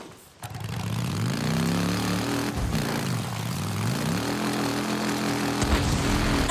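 Motorcycle engine in the Days Gone video game, a steady droning roar with pitch rising and falling as the bike accelerates and shifts, continuous and fairly loud throughout.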